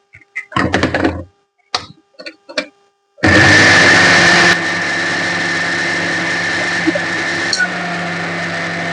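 A kitchen mixer grinder whirs loudly, grinding tamarind, dry red chillies, coriander seeds and cumin into powder. Short knocks and clatters come first, then the motor starts, drops to a steady lower hum and runs on close by.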